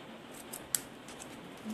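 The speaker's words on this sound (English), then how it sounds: "I don't want it quite as long as that, so I'm going to trim it on this side" Scissors make a single quick snip through ribbon during a papercraft project, a faint close click against a quiet room.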